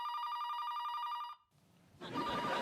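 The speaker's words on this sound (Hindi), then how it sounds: "वैसे बेवक्त तो सिर्फ तुम्हारी मम्मी का फोन आता है" A telephone bell rings steadily and loudly for over a second in a home at night, then cuts off and gives way to shuffling room noise.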